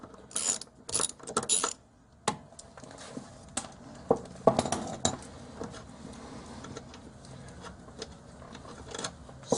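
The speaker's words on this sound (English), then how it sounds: "Repeat the process on the bottom of the shock absorber, this time using a 19mm on the top and on the bottom." A socket wrench ratchets a nut off the rear shock absorber bolt of a 1972 VW Beetle, with a 19mm socket; bursts of sharp clicking and metallic clattering come close up, irregular and uneven, with pauses between them.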